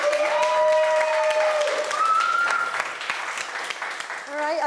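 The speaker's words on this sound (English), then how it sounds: "Give them a round of applause." An awards show audience applauds in a dense, steady wash of clapping that fades slightly toward the end, with music tones playing over it.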